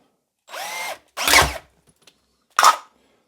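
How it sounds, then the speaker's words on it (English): A power drill runs in three short bursts with pauses between them, boring a 6 mm hole parallel to an existing hole in junk parts for a homemade lamp. It sounds loud and close, with no talking. "we'll just drill that parallel to the existing hole"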